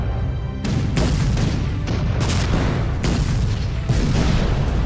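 Weapon shots explode in the artillery video game ShellShock Live, a dense, loud series of booming blasts rolling continuously with no talk.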